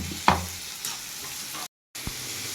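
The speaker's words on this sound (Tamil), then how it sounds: "இப்போ இஞ்சி பூண்டு பேஸ்ட்டு போடுறேன்" Ginger garlic paste frying in hot oil in a pan and being stirred, a steady close sizzle with a sharp scrape of the spoon near the start and another soft clank after a brief dropout.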